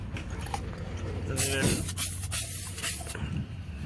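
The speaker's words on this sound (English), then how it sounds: "Spray this side real quick." A spray can of black paint hisses in a steady burst of about two seconds, close by, over low background hum.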